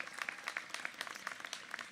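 A graduation commencement audience claps in a faint, scattered patter of individual hand claps, thin and distant, lasting about two seconds with no voices.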